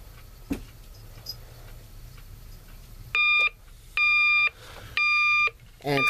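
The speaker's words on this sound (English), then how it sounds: "The alarm is pretty loud." A Sears Tradition alarm clock, model 47198, beeps loudly on its high setting in three long, evenly spaced bursts, bright and piercing, after a stretch of quiet room noise.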